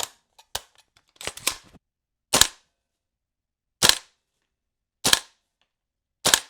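A gas airsoft rifle styled as a Battlefield 6 replica fires sharp single cracks with a gassy snap, a few quick tight shots early followed by four well-spaced loud reports, each standing alone in silence.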